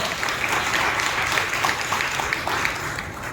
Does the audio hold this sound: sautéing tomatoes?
no